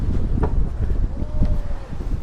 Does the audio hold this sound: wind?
yes